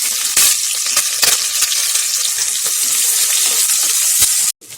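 Onions and green chillies frying hard in a pan of hot oil for egg biryani, with a steady loud sizzle and crackle throughout, some stirring clatter on top, and an abrupt drop near the end.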